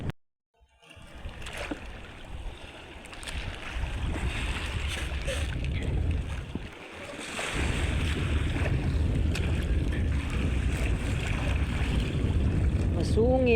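Strong wind in stormy weather at sea, a rough roaring gust that rises after a brief quiet start and stays loud, with someone talking over it.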